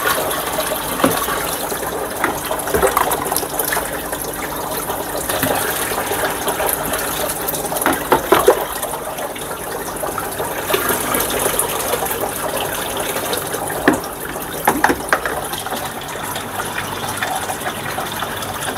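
Leftover water from an aquarium with an undergravel filter is poured out in a steady gushing splash, a continuous watery rush with brief louder surges, heard alone without talk.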